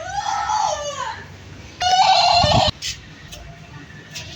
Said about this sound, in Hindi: तो तरीके से चीखे मारने में लगी हुई है